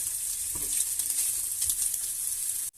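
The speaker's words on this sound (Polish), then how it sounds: "jeszcze chwilę podsmażam ją razem z boczką i kiełbasą" Diced onion sizzling in a hot pan together with bacon and sausage for a potato bake with jalapeño, a steady dense crackle that holds close and loud, broken only by a few faint stirring scrapes.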